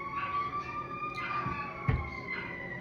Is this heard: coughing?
no